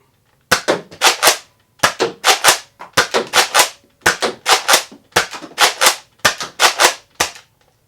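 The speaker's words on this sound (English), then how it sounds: "Let's go ahead and fire off a few shots with the Mediator in XL form." A Nerf Modulus Mediator blaster in XL form fires a string of sharp, loud pops, about twenty shots in quick bursts of three or four with brief pauses between, close up and without talk.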